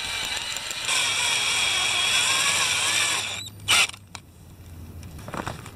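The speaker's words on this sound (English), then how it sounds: "you could just drill a hole with a drill bit right through both sides" A power drill whines steadily for a few seconds while boring through a Sunfish sailboat boom, then stops, followed by a sharp clack and faint handling noises nearby.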